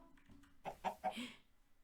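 A chicken in a Minecraft-style block-building game lets out a short burst of three or four quick clucks, close and fairly quiet, with no one talking.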